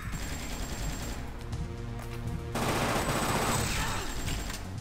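Gunfire in the video game Fear Effect, a steady stream of shots running through the whole stretch over game music, growing louder and denser about halfway through.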